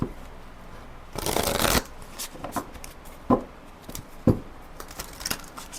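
Tarot cards are shuffled close up for a reading: one dense riffling burst, then a run of scattered slaps and taps as the cards are cut and laid down, with no talking.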